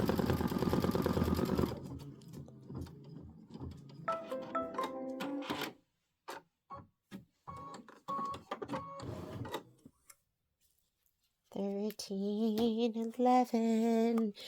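An Aveneer embroidery machine stitches out a Boo Manor tiling scene tile, a busy mechanical whirring and rapid needle chatter that runs loud at first, breaks into choppy bursts, pauses, then resumes with a steady tonal hum.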